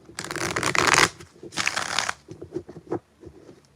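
A deck of tarot cards is shuffled up close in two quick riffle bursts, followed by softer taps and slides as the cards are squared up.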